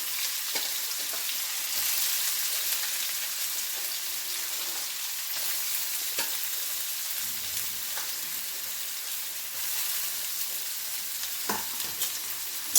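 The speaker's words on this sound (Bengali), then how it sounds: "পেঁয়াজ কুচনো দিয়ে দিলাম।" Chopped onions go into hot refined oil already frying whole cumin, giving a steady close sizzle with occasional crackles and pops and a few stirring scrapes, without any voices.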